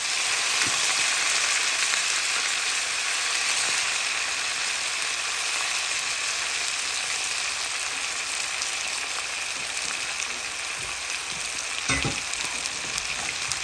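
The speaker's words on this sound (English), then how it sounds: "rinsed our spinach off, and I'm going to go ahead and add it to the pan" Rinsed spinach sizzling loudly in a pan with bacon, a dense, steady close-up crackle that runs throughout with a few sharper pops and spatters.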